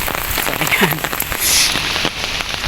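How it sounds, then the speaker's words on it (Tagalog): Steady rain falls on a cloudy, cold street while a pedestrian walks under an umbrella, a dense hiss with drops pattering on nearby surfaces throughout, and a short spoken remark over it. "Umuulan."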